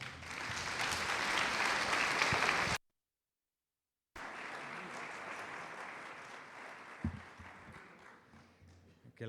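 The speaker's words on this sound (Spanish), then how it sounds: "¿qué tal si recibimos a Jules con un aplauso?" Audience applause at a theological plenary gathering welcomes a speaker, a dense sustained clapping that breaks off briefly, then resumes and gradually thins out without speech.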